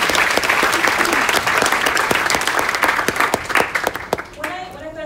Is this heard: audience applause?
yes